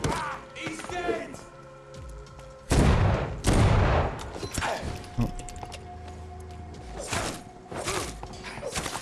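Gunfire in the video game Vampyr, with several loud, sharp blasts, some heavy shotgun-like bursts, spaced apart amid game sounds and a voice talking.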